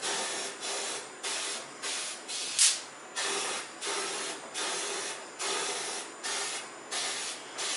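A powder coating spray gun in a homemade booth fires in repeated bursts of roughly half a second, steady airy hissing separated by short pauses, close and fairly loud, with one sharp hiss spike midway.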